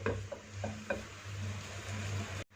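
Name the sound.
chicken filling cooking in pan on medium heat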